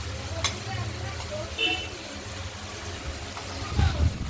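Spice paste frying in a pan for a Bengali katla fish curry, with water poured in bringing a steady close sizzle and stirring scrapes, and brief talk over it.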